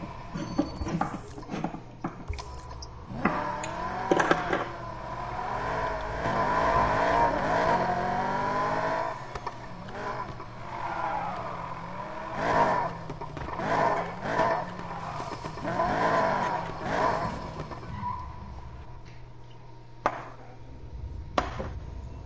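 Cars racing in Need For Speed Payback online, including a McLaren, with engines revving and rising and falling through gear changes, loud and continuous, broken by a few sharp impact clicks near the start and end.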